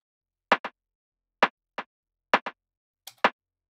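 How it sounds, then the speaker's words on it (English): A UK garage clap drum sample programmed in FL Studio hits in four short sharp pairs, each crisp double-struck clap closely followed by a softer second hit, dry and alone with silence between. "And then the clap sounds like this."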